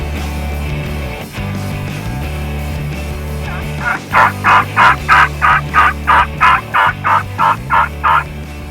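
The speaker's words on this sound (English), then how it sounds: "we had multiple gobblers pitching down in the field about 250 yards from us" Several wild turkey gobblers in a Kansas field gobble in a loud, rapid run of about a dozen pulsing bursts, following a few quieter seconds of low background rumble.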